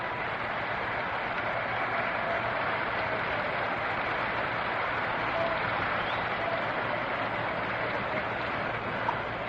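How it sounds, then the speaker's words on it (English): Baseball crowd at a World Series Game 7 between the Brooklyn Dodgers and New York Yankees applauding pitcher Johnny Podres as he comes on, a steady, dense wash of clapping and crowd noise holding for the whole stretch. "A round of applause for Johnny Podres as he comes on."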